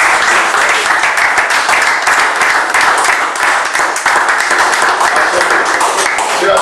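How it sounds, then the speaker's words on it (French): A church congregation bursts into sustained applause praising God, a loud, dense wash of many hands clapping close by, with voices faintly mixed underneath. "C'est quelque chose pour applaudir à Dieu."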